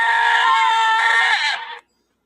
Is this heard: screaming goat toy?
yes